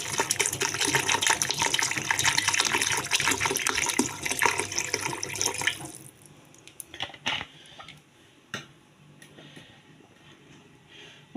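Water pours into a cooking pot of lamb with prunes, a loud continuous gush for about six seconds that stops abruptly, followed by faint clinks and small kitchen handling sounds.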